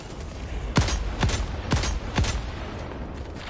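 A low-damage, ammo-hungry weapon fires four sharp shots in quick succession in the shooter game Helldivers 2. The shots are evenly spaced over steady game background noise.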